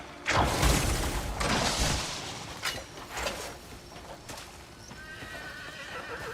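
Horse in the Crimson Desert video game, a loud neigh followed by clip-clopping hooves and a few further snorts, close and alone.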